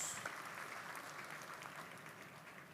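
A church congregation applauds during a sermon, a faint, steady patter of many hands clapping that trails off slightly toward the end.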